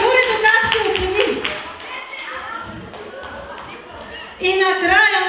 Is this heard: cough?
no